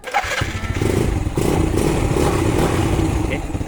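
A Yamaha Vega ZR motorcycle fitted with a Honda Supra carburetor starts up and is revved hard, its loud, steady engine roar holding close and constant after a brief idle at the start.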